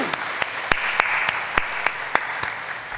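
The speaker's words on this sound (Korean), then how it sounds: "우리 격려의 박수 보내겠습니다" A church congregation claps for its district and parish leaders, a hiss of many hands in a hall punctuated by sharp, nearby individual claps at a slow, regular rhythm.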